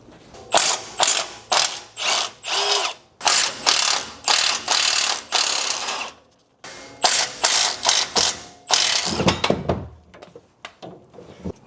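A ratchet wrench clicks in quick repeated bursts while backing out 14mm bolts on a car's sway bar end links, with short pauses between runs of ratcheting, close and fairly loud.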